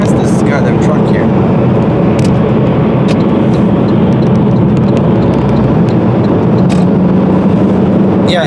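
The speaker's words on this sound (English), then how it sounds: "I'm gonna pass this goddamn truck here." A turbocharged car accelerates to pass a truck on the road, a loud steady engine and road roar filling the cabin throughout with no let-up.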